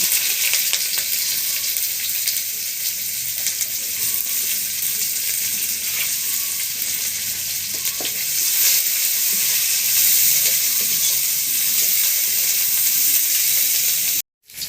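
Chopped onion sizzles in hot oil over a dried red chilli tempering, a steady, loud, close hiss of frying with a few faint stirring clicks throughout, then a sudden cutoff at the end.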